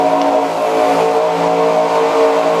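Stock cars run under pace before the green flag at the Daytona 500, an onboard engine drone holding a steady, tonal hum at constant loudness, with no speech over it.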